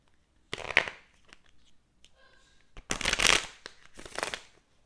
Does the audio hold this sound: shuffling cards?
yes